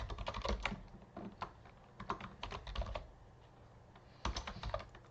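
Quiet keystrokes clatter on a computer keyboard in quick bursts separated by short pauses, close and alone with no voices.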